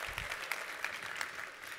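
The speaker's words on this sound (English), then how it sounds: "Can we give a round of applause for email?" Audience applause from a crowd at a marketing talk, a short burst of clapping with sharp individual claps over a continuous patter, moderately distant.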